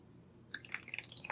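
Borax solution is poured into homemade slime, and after a brief quiet moment wet, crackly squishing and dripping sounds start up close.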